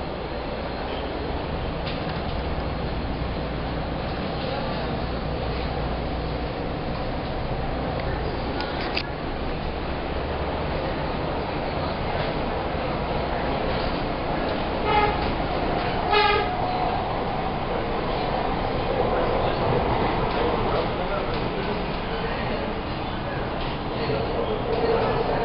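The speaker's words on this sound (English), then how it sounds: "There's John on the train" A train rumbles steadily throughout, with carriage noise and wheels on rails, and short horn toots partway through. People talk over it.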